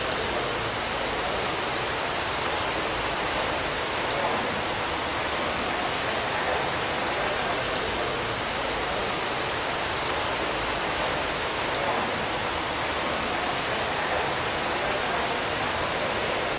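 Water rushes steadily down an irrigation channel near an old mill in Banyeres de Mariola, a constant, even, hissing flow with no pauses or voices.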